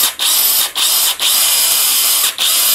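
Blackfoot impact wrench with a half-inch hog-ring anvil spinning freely, a loud high whirring buzz in four sustained bursts separated by brief stops, with no talk.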